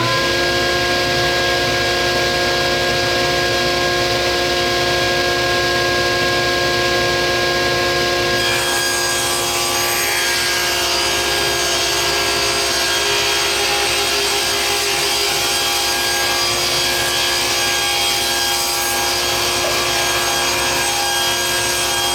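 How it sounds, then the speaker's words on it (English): A saw rips wooden stock into strips for router-made tambours for a roll top desk, a continuous rasping cut that runs for over twenty seconds and changes character slightly midway. "we're just going to cut strips that are 1 15/16 of an inch wide."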